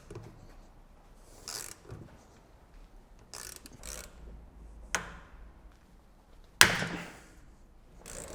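A gear puller working a stuck part off at a vice bench on a V12 BMW E32 750iL project, giving several separate sharp metallic clicks and cracks, the loudest a sudden snap near the end.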